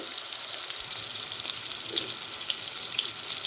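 Butter sizzles steadily in a hot pan as the base for cooking rice, a continuous bright frying hiss at close range with no voices.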